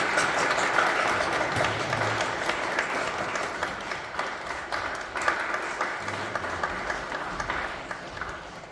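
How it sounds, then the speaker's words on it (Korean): Congregation applause during a Korean church's final worship service of the year, as a Bible quiz award is presented: many hands clapping steadily for around nine seconds, gradually thinning, with no talk over it. "크게 박수해 주십시오."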